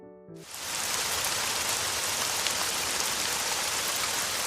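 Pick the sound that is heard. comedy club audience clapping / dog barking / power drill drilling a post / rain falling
rain falling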